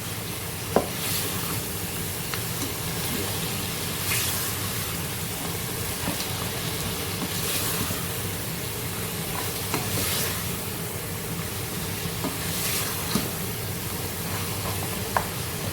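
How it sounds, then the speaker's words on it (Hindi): Onions and spices fry in a pan for Lahori aloo gosht, giving a constant close sizzle with occasional scraping stirs and small pops, with no one talking. "देखिए प्याज जो है उसके साथ भून रहे हैं, मसाले भी भून रहे हैं"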